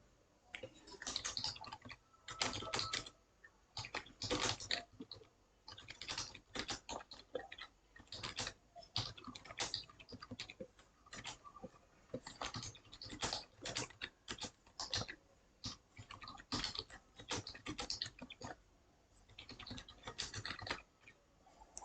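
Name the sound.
typing on a computer keyboard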